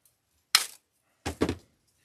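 Two quick, sharp snips cut an artificial flower stem for a lemon door hanger, heard close and clear, the second a double crunch, with silence around them.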